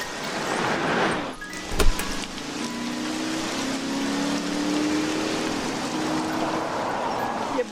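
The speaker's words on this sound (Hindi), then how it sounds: "एक तो आज बारिश भी बहुत तेज है" Heavy rain pours steadily as a broad, constant hiss, with a thud and a passing vehicle's hum partway through.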